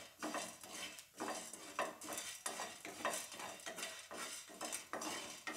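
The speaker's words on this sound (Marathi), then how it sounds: "हे आपल्याला भाजून घ्यायचं आहे." Fenugreek seeds, peppercorns and cumin dry roasted in a pan, rhythmic scraping stirs with a spoon and faint rattling of seeds repeating about once a second, close and fairly quiet.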